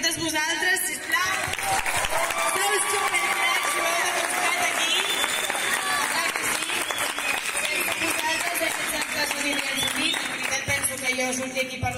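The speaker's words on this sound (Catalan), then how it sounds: "Primer de tot us demano un fort aplaudiment per totes vosaltres" A crowd claps continuously at a steady, dense level, with voices and some cheering mixed in, sustained for the whole stretch.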